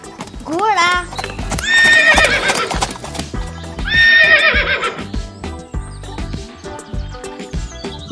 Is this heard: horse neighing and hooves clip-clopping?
yes